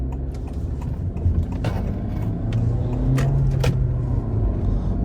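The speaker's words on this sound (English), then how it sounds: "Let's do some downshifts for you guys." A manual car downshifting through its gears while slowing, with a steady engine rumble and brief rises in revs as each gear engages, heard from inside the cabin.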